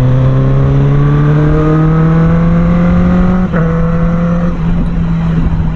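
Honda CB650R inline-four motorcycle engine revving loud and close, a smooth high-pitched whine climbing steadily before the throttle briefly drops and picks up again.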